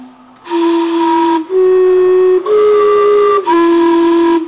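A famous public steam clock in Vancouver sounds its whistles: four loud, sustained tonal blasts of shifting pitch in quick succession, each with rich harmonics, heard close with no talking.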